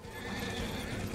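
A horse in the Darksiders video game, a brief burst of hooves and a whinny mixed into dense, noisy game sound, fairly loud and over within about a second.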